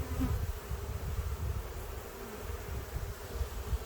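Honey bees buzz steadily and densely around an open hive during a full inspection, a close, continuous hum with no talk over it.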